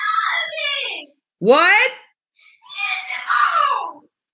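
A child screams in three loud, strained bursts with short gaps between them, the middle one rising sharply in pitch; a brief spoken word comes in between.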